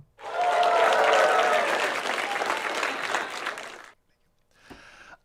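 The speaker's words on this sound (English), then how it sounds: "Applause goes here." Enthusiastic crowd applause erupts and holds for several seconds before cutting off abruptly, followed by a short, faint burst of sound after a brief silence.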